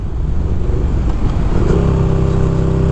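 Sport motorcycle accelerating in sport mode, a loud close engine rising in pitch with the throttle opening, heard alone.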